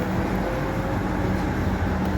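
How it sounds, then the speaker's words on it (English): A train pulls away from Frankston Station in Melbourne, a steady broadband rumble with faint tonal hum holding constant throughout, no speech over it. "there's our train we arrived here and leaving"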